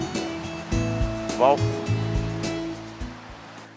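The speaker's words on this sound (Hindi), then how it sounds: "आओ बीच किनारे चलते हैं" Ocean waves wash steadily on a beach at Alibaug, a broad rushing surf that runs under people talking and an exclaiming voice, with a tonal hum in the background.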